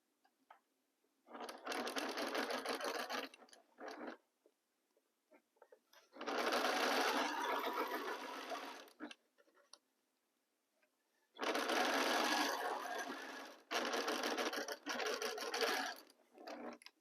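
A sewing machine runs in four separate bursts, stitching a quarter-inch seam with a fast, steady mechanical whir, each run lasting two to three seconds with brief quiet pauses between, close and clear with no talk.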